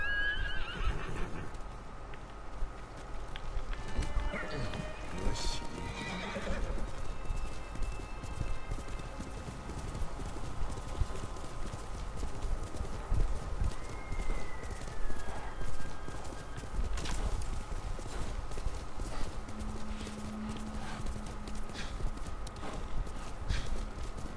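Steady clip-clop of horse hooves in a video game runs throughout under a constant outdoor ambience, with a horse neighing briefly near the start.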